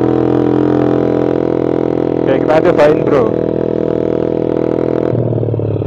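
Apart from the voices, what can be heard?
motorcycle engine revving with RMS Racing exhaust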